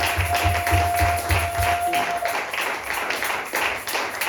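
A church congregation at a Sunday thanksgiving service claps in a steady rhythm while acclaiming the Lord, a sustained wash of many hands with cheering voices and a brief held tone underneath.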